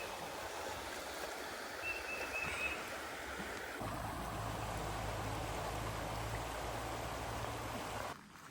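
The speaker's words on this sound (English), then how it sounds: "This river is definitely swollen." A swollen river flows along the Appalachian Trail in a steady, broad rush of water that stays constant and fairly near, with a deeper churning layer joining about halfway through.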